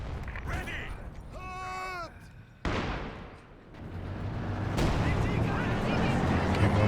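A World War II artillery barrage in Company of Heroes 2 lands as sharp explosive blasts, one sudden loud impact followed by rumbling detonations, mixed with battlefield noise and someone speaking over it.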